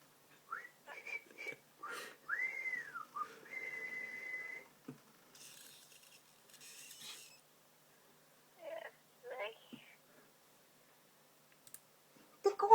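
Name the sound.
person whistling a song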